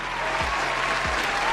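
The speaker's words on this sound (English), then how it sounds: "Give her a round of applause." A crowd gives a short burst of applause, a dense patter of clapping lasting under two seconds.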